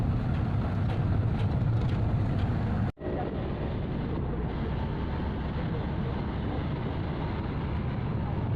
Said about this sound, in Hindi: गाड़ी चल पड़ती है।